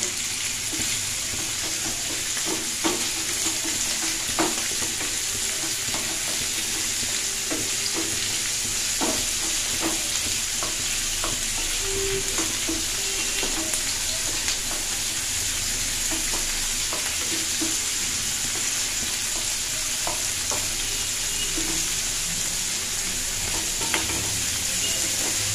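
Food frying in a pan on a home stove, a continuous sizzle running the whole time with frequent scrapes and knocks of a spoon stirring, close and steady.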